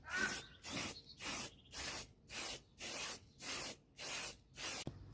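A spray can hisses in about nine short, evenly spaced bursts, close and steady, as the rear bumper of a 1995 Toyota RAV4 is painted.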